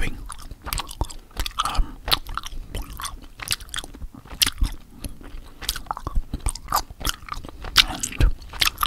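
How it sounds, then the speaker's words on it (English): Gum is chewed right at the microphone in a close ASMR setting, a steady stream of wet, sticky smacks and clicks with no talking. "For gum chewing."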